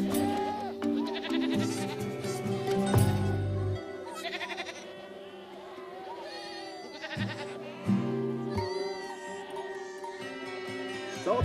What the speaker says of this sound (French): On a laissé les chevreaux têter un peu